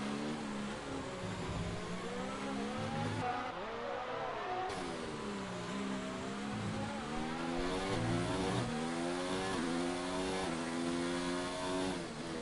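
A Formula 1 car engine in the racing game F1 2019 screams at high revs throughout, with repeated upshifts and downshifts as the pitch climbs and drops through a lap.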